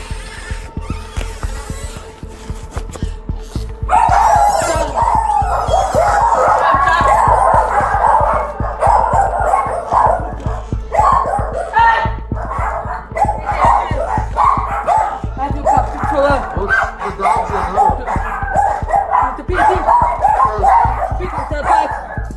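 A crowd of at least ten dogs barks and yips nonstop inside a cluttered hoarding house, dense overlapping barking that swells after a few seconds and stays loud throughout, with a steady low hum underneath.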